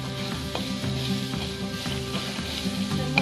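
Curry masala sizzles and fries in a pan with vegetables for pasta, a continuous crackling hiss broken by the regular scrape and clack of a spoon stirring close up.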